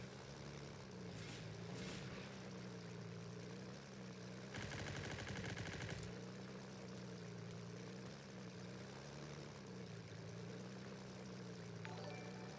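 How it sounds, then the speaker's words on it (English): Airstrike in the Easy Red 2 war game: a sustained low engine drone with a loud, dense burst of explosive crackle lasting about a second and a half, then the rumbling hum continuing steadily with no talking. "That's another airstrike."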